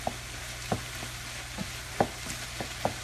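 Baby portobello mushroom sauce simmers and sizzles in a pan, a soft continuous fry punctuated by about half a dozen sharp clinks and scrapes of a stirring utensil, close and clear with no talking.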